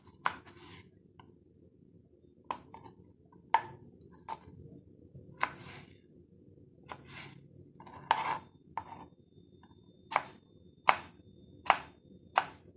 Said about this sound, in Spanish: Y de ahí voy a cortar los cuadritos